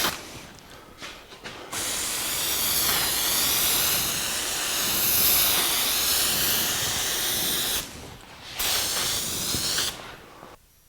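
Spray gun laying top coat paint onto a 1982 Jeep CJ7 tub, a loud steady hiss of sustained spraying after a few short bursts, cutting off briefly near the end before another pass, close and without talk.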